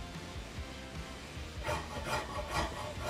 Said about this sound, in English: I use a really large rasp to whittle down all of the corners